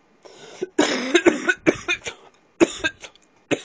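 A person coughs repeatedly in a harsh, wet fit, several close bursts in quick succession with short gasps between.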